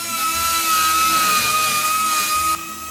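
A steady, high-pitched whine from a drilling machine runs continuously at close range, then drops off abruptly near the end.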